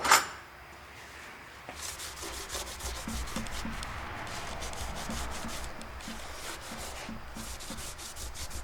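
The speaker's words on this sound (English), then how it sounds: "So I'm going to do a last minute wipe of the surfaces." A rag wipes the gasket surfaces of an oil pan on a Jeep 4.6 stroker engine, giving a faint, steady rubbing and scrubbing close by after a brief knock at the start.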